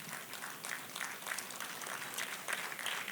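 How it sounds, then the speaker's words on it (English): Steady applause from a seated crowd at a fundraising dinner for a silver jubilee celebration, dense continuous clapping that holds at an even, fairly loud level throughout with no talk over it. "A big round of applause for the university."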